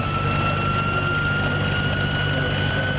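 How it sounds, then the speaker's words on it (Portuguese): A gyrocopter flying-car prototype in flight, its engine and free-spinning rotor producing a loud, constant droning hum with a steady whine, unbroken and close throughout. "um girocóptero que pode viajar a 180 km por hora e, uma vez no solo, desempenhar o papel de um carro comum"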